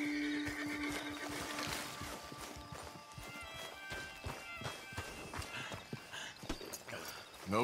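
A horse whinnies and hooves clip-clop steadily over a busy Red Dead Redemption 2 game soundscape, with talk intermittently layered on top.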